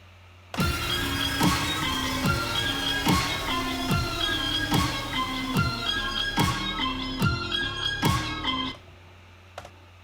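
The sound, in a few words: electronic snare drum beat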